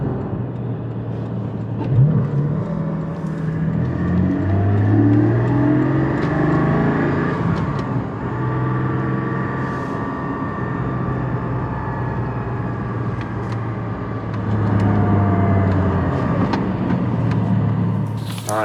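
A Porsche 718 GT4 engine rumbles at idle and revs repeatedly with automatic throttle blips, the close exhaust note rising and settling in several bursts across the clip.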